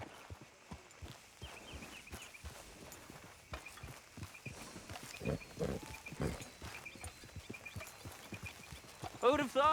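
Horses walk along with a steady clip-clop of hooves, moderately near, mixed with the ambient soundscape of Red Dead Redemption 2, and a short bright tonal burst sounds at the very end.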